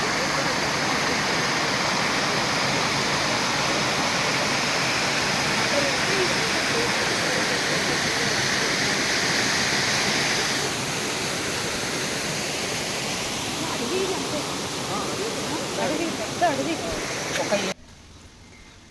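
Benki Falls near Bangalore rushing through forest, a dense, steady roar of falling water heard up close, easing slightly partway through before cutting off.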